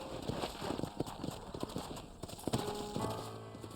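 Horse hooves clip-clop steadily in the Red Dead Redemption video game, a close, rhythmic trot running throughout, with a brief horse whinny-like tone and faint background game sounds.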